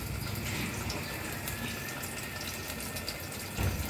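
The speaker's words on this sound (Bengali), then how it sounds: "এই যে একটু পানি দিয়ে দিলাম" Water splashes into a pot for cooking, a soft, steady trickling and hiss at low volume, continuous for a few seconds with a small burst near the end, no voices.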